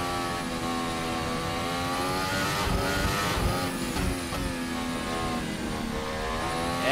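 A Formula Hybrid race car accelerating hard on a hot lap, a loud close high-pitched engine climbing through the revs with a short dip at an upshift, heard without talking.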